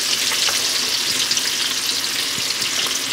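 Sage, onions and bacon sizzle in a pan with garlic, a dense, steady crackle close up with occasional sharper pops and faint stirring.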